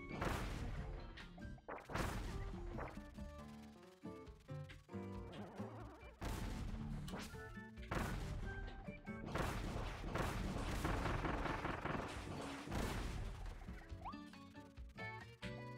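Chain Bomb blasts from Kirby and the Forgotten Land go off in a dense game mix, repeated crashing booms and smashes over busy music and effects, loud and close for the whole stretch.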